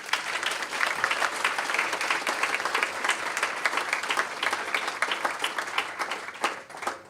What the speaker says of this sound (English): Can everyone please join me in a final round of applause?